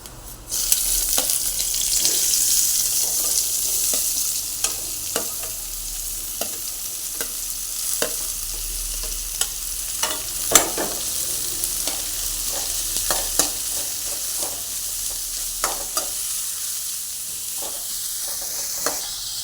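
Onions sauteing in a pan after tempering, a continuous close sizzle broken by frequent sharp clicks and taps of a spoon stirring against the pan, with no talking.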